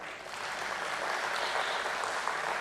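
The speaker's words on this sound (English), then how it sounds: "let's begin with a huge round of applause for the brand" A room of people applauds at a company stock listing ceremony, a dense, steady wash of clapping that stays even throughout.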